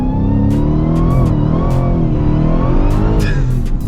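A Dodge Demon 170 in drag mode launches with a loud, sustained rising engine roar heard from inside, broken by brief clicks and rattles.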